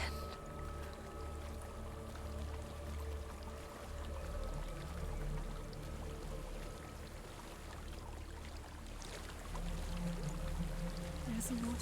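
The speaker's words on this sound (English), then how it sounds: "There's a waterfall" A waterfall rushing in Hellblade: Senua's Sacrifice, a steady broadband wash of pouring water that holds an even level throughout, with low droning tones and faint game ambience beneath it.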